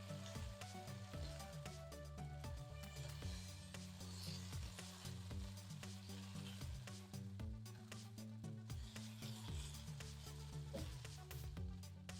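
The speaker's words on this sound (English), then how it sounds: "That sizzle on high heat is exactly what you'd expect" Beef sizzles and crackles steadily in a hot wok, with occasional scraping stirs over a continuous loud frying hiss, close up.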